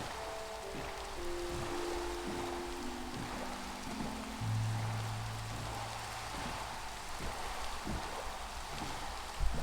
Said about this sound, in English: And it's raining again. Or it's still raining.